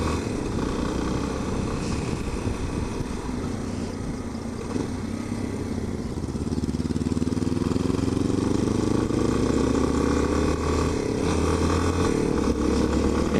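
A motorcycle engine runs steadily, then revs up and climbs in pitch over several seconds, loud and close, with no voices.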